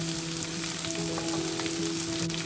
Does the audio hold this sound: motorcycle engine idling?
no